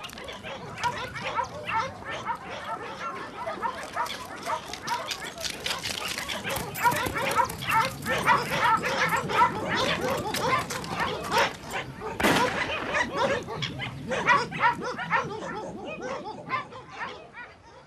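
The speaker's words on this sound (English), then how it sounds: "Dogs are employed to track the pumas that cross into the ranches" Hunting dogs bark excitedly while tracking pumas on Andean ranch land, with many overlapping yaps and yelps in a dense, continuous chorus, fairly close, with a loud burst near the end.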